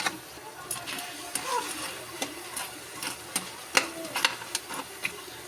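Crab with squash and okra stirred in a pot before coconut milk goes in, a series of light scraping clicks and knocks at an uneven pace over a soft steady sizzle, fairly close.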